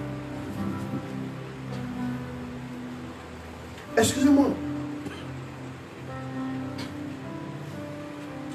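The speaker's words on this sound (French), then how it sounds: "Il y a le bruit des vagues." Sea waves wash in a steady, hissing roar in the background, with a brief louder burst midway and a person speaking briefly over the surf.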